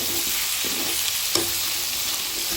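Chicken biryani masala with milk powder is stirred in a hot pan, a steady dense sizzle with occasional spoon scrapes and a single sharper clink.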